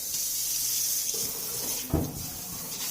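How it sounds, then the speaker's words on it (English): Hot water runs steadily from a tap into a sink, a smooth close hiss with a few small clunks and splashes, no talking. "She's going to rinse it with hot water."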